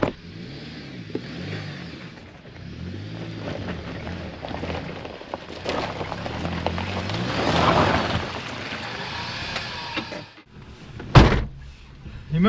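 A Suzuki Jimny door slams shut with a single sharp thud late on, following a stretch of driving and rumbling noise on a steep off-road hill.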